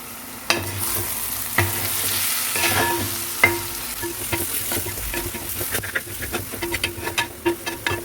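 Spices and onions sautéing in hot coconut oil, a steady close sizzle broken by repeated scraping and clacking strokes of a stirring spoon against the pan.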